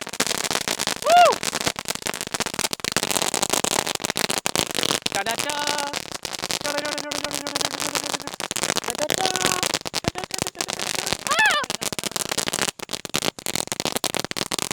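Sharp lollipop firecracker pops crackle across a noisy outdoor Vishu festival scene, with voices and chatter continuing throughout.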